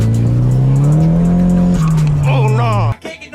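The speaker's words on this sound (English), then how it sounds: "just spinning wheels" A lowered, bagged right-hand-drive Nissan Silvia S14 on high boost spins its tyres without traction, the engine droning loud and steady under a rising tyre squeal before cutting off abruptly near the end.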